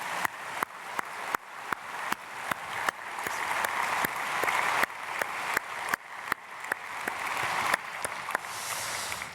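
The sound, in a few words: church congregation applause blessing a family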